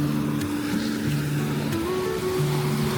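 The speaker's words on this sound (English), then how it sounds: "Oh, these are huge. These are big waves." Big ocean waves crash against rocks along a Philippine shore, a steady, loud roar of surf with a low motor-like hum running underneath and no talking.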